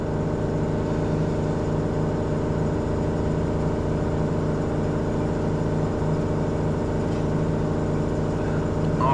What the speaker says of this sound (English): Right, you'll have to excuse the noise. I've got the compressor on.